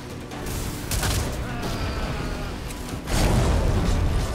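An explosion in the video game Skyrim bursts loudly, with a heavy boom near the middle and a second, stronger blast toward the end over a steady noisy game background.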